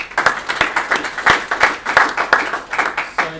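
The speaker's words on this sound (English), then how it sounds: "once again, a round of applause for Karan for that great speech" An audience claps after a speech at an event on innovation and entrepreneurship, a steady round of applause with individual sharp claps audible in a rhythmic, fairly close pattern, no voices over it.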